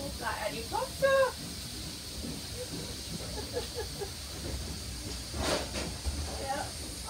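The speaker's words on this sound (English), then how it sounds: "Oh, look at that steam." Steam hisses from a preserved steam locomotive on a heritage railway, a broad steady rush that rises and swells briefly, heard under excited voices of people nearby.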